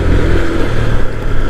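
Group of Harley motorcycles on a touring ride passing fast along a rural road, a loud steady engine drone with low rumble, close by.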